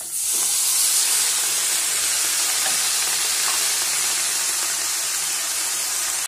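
Steady, loud sizzling and hissing as a large handful of drumstick leaves is stirred into half-cooked onions and green chillies frying in a pan, a bright continuous crackle with faint stirring scrapes and no talking.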